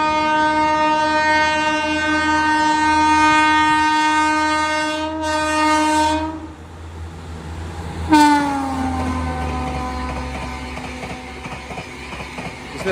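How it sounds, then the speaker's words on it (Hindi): The Mumbai Hisar Duronto express passes at about 170 km/h, sounding a long, loud horn blast and then a second fading blast over a deep rolling rumble as it rushes by. "पहुंचते ही सामने से आई मुंबई हिसार दुरंतो।"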